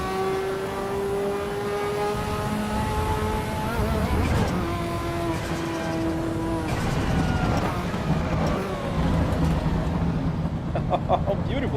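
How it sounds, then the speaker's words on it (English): A turbocharged Volvo engine on a driving simulator game roars steadily, climbing and shifting through revs with whining harmonics as the turbo spools, loud and continuous with some tire noise. "Oh, look at that turbo kicking in."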